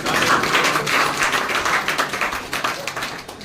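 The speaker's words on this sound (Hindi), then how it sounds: "गजब यार, एक जोरदार ताली पे।" An audience applauds loudly and steadily at a direct selling session in Mungeli, a dense wash of many hands clapping throughout.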